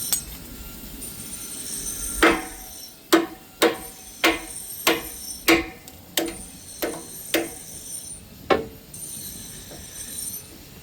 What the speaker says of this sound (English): using a chisel and hammer to knock off the halves of the nut